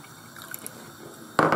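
Lemon juice poured into melted butter sauce in a pan for a turbot dish: faint kitchen clinks, then a short, close splashing pour near the end.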